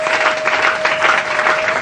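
A church congregation bursts into loud, sustained clapping in praise, a dense close wash of hands with a steady tone humming underneath.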